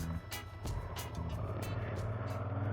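A Suzuki SV650 V-twin motorcycle rumbles steadily during a ride, with a low, continuous engine drone and some sharp intermittent clicks or knocks above it.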